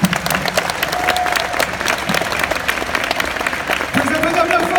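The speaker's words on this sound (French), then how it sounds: "On peut les applaudir." A crowd at a Japan Expo convention panel applauds loudly and steadily for the team on stage, a dense patter of many hands. Voices call out and talk over the clapping.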